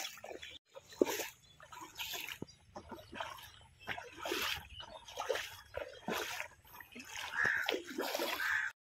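Splashing steps wading through knee-deep water in a village, irregular sloshes close by with faint voices and background noise.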